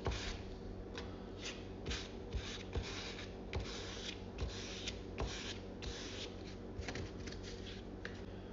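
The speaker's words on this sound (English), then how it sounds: "mix it up real good." An expired plastic card mixes JB Weld epoxy, scraping close up in quick repeated strokes with a steady rhythm of sharp scratchy swipes.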